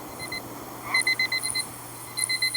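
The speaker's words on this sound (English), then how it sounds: "I got a new timer. It gives me about a minute left." A new digital timer beeps in short, evenly spaced bursts, a first run of pips and then a second group near the end, clear and fairly close over a low steady hum, with no talking.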